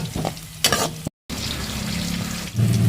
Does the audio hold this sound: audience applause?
no